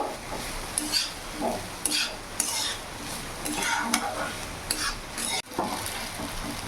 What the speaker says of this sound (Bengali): ছানাটা দিয়ে ভালোভাবে নাড়াচাড়া করে মিশিয়ে নেব।